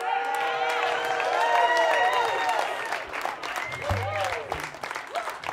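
A live audience claps for an original music performance, a dense wash of applause that is loud at first and then thins out, with no speech over it.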